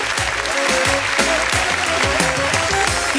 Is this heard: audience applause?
yes